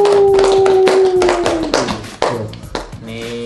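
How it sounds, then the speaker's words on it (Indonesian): A few hand claps ring out, sharp and close, layered over a sustained tonal hum and other background sound, with some voices faintly present. "Tepuk tangan dong"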